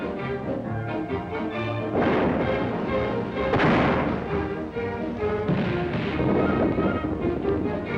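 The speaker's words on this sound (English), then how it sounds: "thousands of anti-aircraft guns, and thousands more in production" Rows of anti-aircraft guns fire in a 1941 American wartime newsreel, a dense, continuous rumble of booms and blasts with swelling surges over steady roaring noise.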